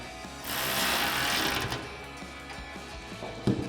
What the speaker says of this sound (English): And then we'll take a 13mm socket and wrench to tighten this down.